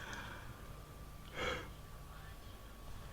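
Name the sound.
yawn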